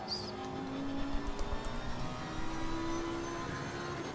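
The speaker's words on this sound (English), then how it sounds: "Listen to that 10-cylinder go." A Lamborghini V10 racing car in Assetto Corsa Competizione holds a steady, droning engine note with tonal whine, moderately loud and continuous on track at Silverstone.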